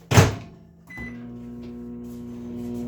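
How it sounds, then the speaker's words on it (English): A microwave oven heating a spinach cheese dip: a bang as the door shuts, a beep, then a steady low electric hum that runs on close by with no talking. "so as that is microwaving"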